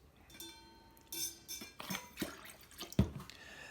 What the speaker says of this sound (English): You're gonna put 2 ounces of fresh lime juice.